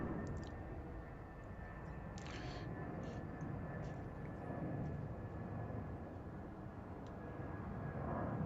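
An airliner at Heathrow rolls off the runway after landing, a steady broad engine roar with a faint whine, distant and constant throughout.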